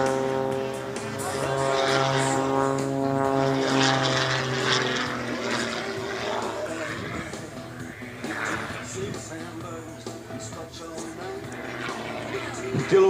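A propeller aerobatic airplane performs rolls, inverted flight and tail-first manoeuvres at an air show, its engine droning and shifting in pitch throughout while a commentator talks over it.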